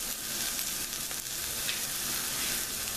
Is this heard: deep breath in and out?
no